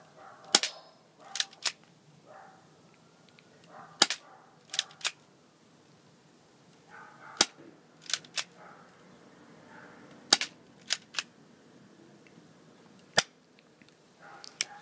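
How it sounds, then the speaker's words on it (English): Airsoft pistols, a Cybergun SIG Sauer P226 and a GSG 92, fire single sharp cracks at close range in an irregular sequence, each snap followed by a faint clack, with quiet pauses between shots. "sidearms are meant to be a last resort close range firearm, and that's why we're only shooting them at a small distance"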